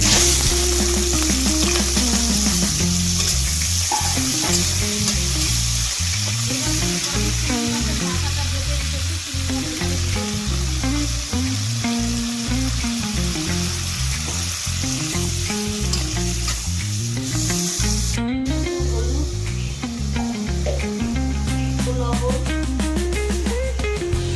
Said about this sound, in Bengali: এখন চিংড়িটা আমি ভেজে নেব।